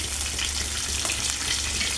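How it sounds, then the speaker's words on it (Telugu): Onion, cumin and curry leaves fry in a pan, giving a dense, loud, continuous crackling sizzle with no voices over it. "ఇవన్నీ మంచిగా ఫ్రై చేసుకోవాలి."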